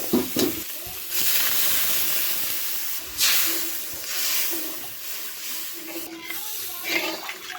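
Water poured into fried masala in a pot sets off a loud, sustained hiss and sizzle that surges and settles over several seconds, with a few clattering stirs.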